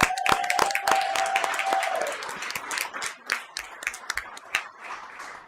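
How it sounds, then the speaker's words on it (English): Applause from the audience at a school board meeting honoring a student artist, with close, loud individual claps over scattered clapping and a brief tone early on, thinning out toward the end. "Bring up some applause too."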